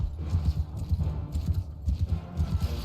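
Horse hooves clip-clop in a fast galloping rhythm in the video game Mount & Blade Bannerlord, close and fairly loud, with scattered whinnies and faint game clatter alongside.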